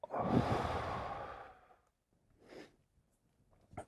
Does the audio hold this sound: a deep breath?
yes